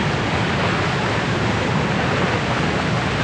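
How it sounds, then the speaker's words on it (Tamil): Heavy water roaring at Devkund waterfall in Maharashtra, crashing like sea surf; a steady, loud, broadband rush fills the whole stretch without pause or talk. "ஒரு கடல் மாதிரி வந்து அப்படியே அலை வந்து அடிச்சுக்கிட்டே இருக்குது"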